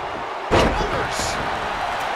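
A heavy slam as a WWE wrestler drives a blow onto an opponent's lower back during an Iron Man match, one sharp loud impact followed by crowd noise and commentary.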